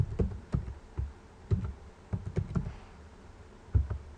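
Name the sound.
typing a password on a computer keyboard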